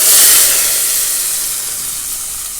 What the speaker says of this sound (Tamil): அவியலுக்குலாம் தேங்காய் எண்ணெயில் தான் தாளிக்கணும்